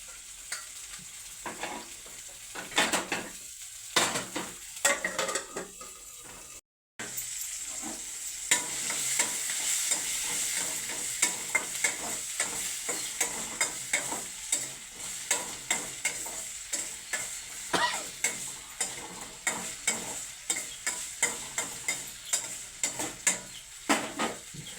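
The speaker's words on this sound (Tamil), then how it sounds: "இப்போ மூடி வச்சா தான் தக்காளி நல்லா வதங்கி நல்லா வேகும்" Tomatoes sauté in a covered pan, giving a continuous soft sizzle broken by regular scraping and clinking of a utensil stirring against the pan, with no voices.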